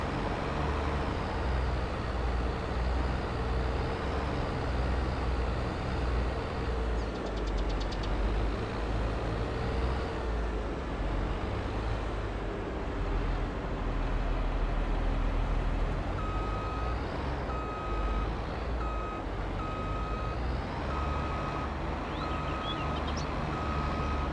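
Harvester driving in a farming video game: a steady, loud engine drone with continuous machinery rumble, and a repeating reversing beep joining in the latter part.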